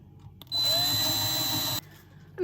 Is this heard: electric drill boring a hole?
yes